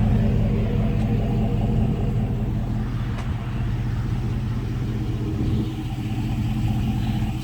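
Low, steady exhaust rumble from a 2010 Chevy Silverado pickup, a continuous deep engine drone at close range with no talk over it.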